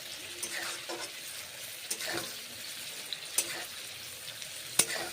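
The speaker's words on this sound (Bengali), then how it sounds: "তাই এখন পটলগুলোকে ভেজে নিচ্ছি" Pieces of pointed gourd fry in mustard oil with a soft, steady sizzle and occasional sharp clicks and scrapes of stirring, fairly quiet and close, with no talking.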